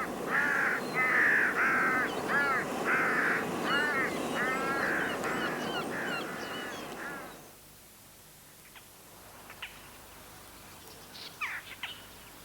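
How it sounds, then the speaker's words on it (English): Jackdaws give a loud run of sharp, clipped 'tchack' calls in rapid, overlapping bursts for about seven seconds, then stop abruptly, leaving near silence broken only by a few faint distant chirps. "Jackdaw."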